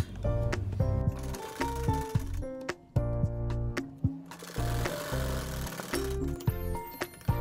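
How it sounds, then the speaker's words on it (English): Sewing machine running in close bursts, stitching through a layered Ankara fabric face mask, its motor whirring and stopping repeatedly with brief pauses between runs. "can run that stitch through the whole part of the mask so that place doesn't look, you know, left out"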